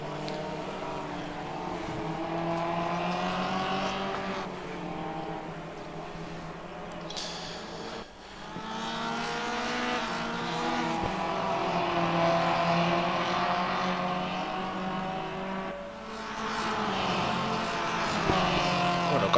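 Formula Jr open-wheel race cars in the RaceRoom sim racing game at Raceroom Raceway, several engines droning and revving together in a steady continuous buzz with rising and falling pitch, fairly loud and close, with a brief dip around the midpoint.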